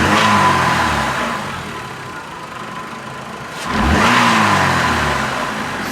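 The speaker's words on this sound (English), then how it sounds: "I'm going to do a snap throttle" A Chrysler PT engine, being checked for a pending cylinder 3 misfire, revs hard in a snap throttle at the start, settles to a lower hum, then surges again near the end, close and loud with no talking.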